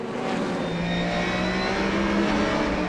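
Endurance race cars at Barcelona in the European Le Mans Series roar past steadily, a loud sustained engine drone with layered whining tones and no voices over it.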